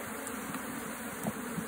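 Honey bees buzzing around an opened hive box during a beehive honey super inspection, a steady continuous drone with faint passing buzzes close by.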